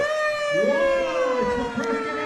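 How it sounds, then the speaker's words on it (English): A wailing siren from an antique fire engine in a Veterans Day parade rises and falls in pitch, loud and fairly near, sounding continuously throughout. "Wow, and you can hear their little siren there."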